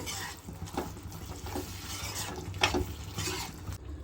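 Okra gravy (bendekai gojju) being stirred in a pan: soft scraping and gentle sizzling with faint utensil clinks, quiet and close, with no talking.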